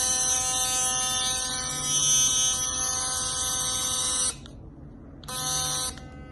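A 4100 rechargeable electric power toothbrush runs with a steady, loud high-pitched buzz, stopping for about a second near the end before restarting briefly and cutting out again.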